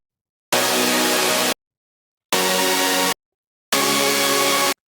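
Bright, full super saw synth chord layer built from a Chaos Source patch, played as three sustained stabs of about a second each with clean gaps of silence between them.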